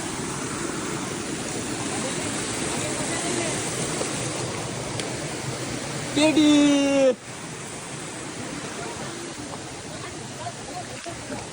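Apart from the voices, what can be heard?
large waterfall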